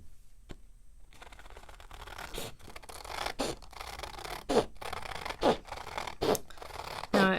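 Ranger craft scissors snipping through paper, a run of short crisp cuts and rustles that grow louder toward the end, close by with no talking.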